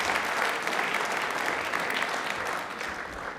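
Steady, dense applause from a studio audience at a televised quiz show, filling the whole stretch evenly and loudly without pause.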